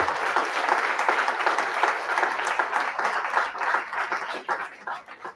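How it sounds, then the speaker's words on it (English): A concert audience at a Carnatic music performance bursts into loud, sustained applause, many hands clapping densely and close, with the sound thinning toward the end. "With a huge round of applause, I think we all should give the verdict whether we did justice to that."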